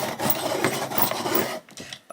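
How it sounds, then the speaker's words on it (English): Colored pencil being sharpened with a steady, close, fairly loud rasping grind that lasts about a second and a half, then stops, leaving a few faint scrapes and no talk. "look how this needs a bit of a sharpen or a lot of a sharpen"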